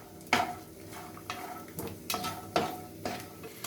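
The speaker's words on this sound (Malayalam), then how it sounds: "കപ്പലണ്ടി നമുക്ക് വറുത്തെടുക്കാം" Peanuts frying in a few spoonfuls of hot oil in a pan, with a steady low sizzle broken by several sharp scrapes and clinks of a spoon stirring them against the metal, close by.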